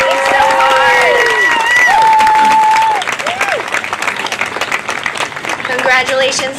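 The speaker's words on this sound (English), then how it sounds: "can we give my class another round of applause?" Parents and children at an elementary school awards ceremony applaud a class, loud sustained clapping with shrill cheers and children's shouts over it, and a voice talking through part of it.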